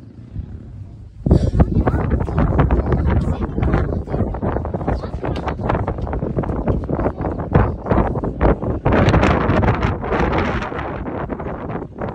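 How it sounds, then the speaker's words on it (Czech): Strong wind gusts roar and buffet against the microphone at a lookout tower, loud and constant after a sudden onset, with a voice partly buried beneath. "Fouká to jako blázen, takže půjdeme dolů"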